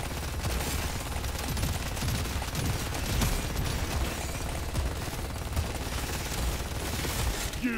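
Dense, continuous automatic gunfire from the game Deep Rock Galactic Survivor, a steady rattling stream of rapid shots with booming low thuds underneath, loud and unbroken for several seconds with no talking over it.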